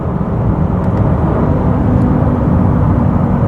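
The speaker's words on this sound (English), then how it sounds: "that V8 sounds amazing" A deep, rumbling BMW V8 engine drones steadily and loudly, a low throaty hum with a constant whirring tone throughout.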